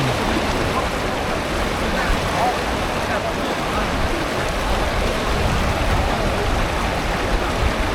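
Strong river current rushing in a steady, dense roar, loud and continuous with no breaks, heard close at a crossing point.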